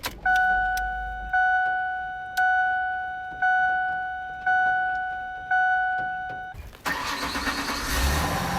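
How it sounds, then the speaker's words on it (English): In a 1996 Ford Windstar minivan, a two-tone warning chime repeats six times at an even pace, then the engine cranks and catches into a loud, rough idle close by. "I slumped out of bed to start my dad's 1996 Ford Windstar that I was borrowing"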